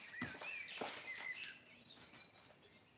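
Birds singing outdoors, a few bright chirps and warbling calls, fairly faint against quiet background.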